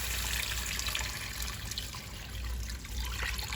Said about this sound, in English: So I'm going to add in my water.